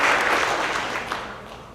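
Audience applause at a monthly company celebration, a dense burst of clapping that starts loud and gradually tapers off over under two seconds, with no talking.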